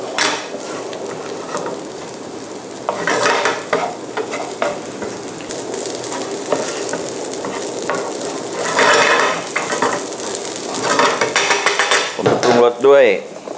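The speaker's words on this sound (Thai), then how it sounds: "หลังจากนั้นผมเอาข้าวลงผัดเลยผมเร่งไฟให้แรงนะ" Rice is stir-fried over high heat in a pan, a loud continuous sizzle broken by repeated scraping and tossing strokes of a spatula, with metal clatter and a ringing pan knock near the end.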